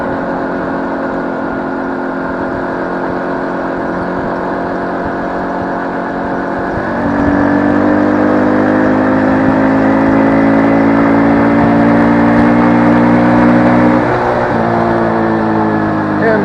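A small XPro 125 X-25 cafe motorcycle's 125 cc engine drones steadily while riding, rising in pitch and loudness midway as the throttle opens, its harmonic hum held under wind rush.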